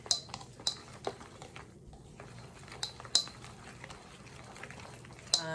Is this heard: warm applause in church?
no